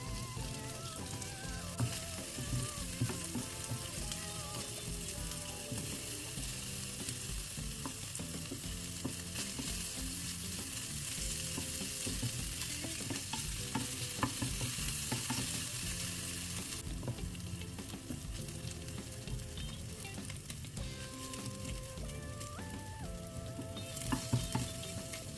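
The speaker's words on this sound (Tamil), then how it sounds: "இப்போ நாங்கள் பேனில் பன்னீரை போட்டு எடுத்துக்கணும்." Paneer frying in butter in a pan while being stirred, a continuous crackling sizzle with frequent scraping and clinking of the utensil throughout, close and steady, no talking.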